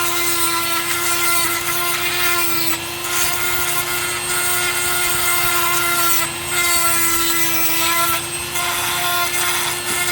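A Dremel rotary tool with a diamond bit grinds jasper stone, giving a loud, continuous, close-up whine with a steady pitch and gritty abrasive rasp throughout.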